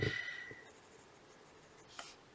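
A colored pencil shades very lightly on paper, producing a soft, faint scratching with a couple of brief strokes in a quiet room.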